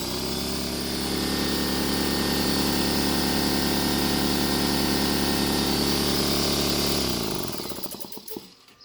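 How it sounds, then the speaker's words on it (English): A Husky air compressor, just fitted with a new piston and air valve, runs with a loud steady motor drone and fast pumping rattle for about seven seconds, then cuts off and winds down. "Compressor's plugged in. Let's start her up."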